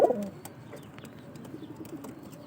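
Pigeons coo softly nearby, low throaty calls repeating over a quiet background with a few light rustles and clicks.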